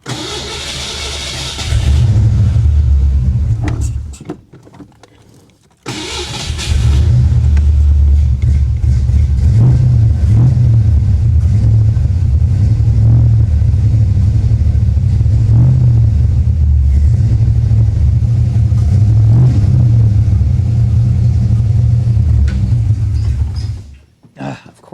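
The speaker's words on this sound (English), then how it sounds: "I'm going to fire it up real fast" A modified 1989 Ford Foxbody Mustang GT V8 cranks and fires, stumbles and dies briefly, then restarts and settles into a loud, lumpy, steady idle close by before cutting off at the end.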